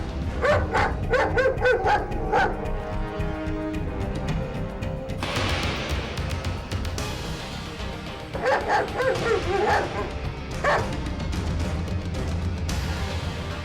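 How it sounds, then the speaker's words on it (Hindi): A dog barks repeatedly in bursts of loud yips and barks outdoors near a quarry, with steady background noise filling the gaps between the barking bouts. "देखा, कुत्ता वापस क्वारी के अंदर जा रहा है।"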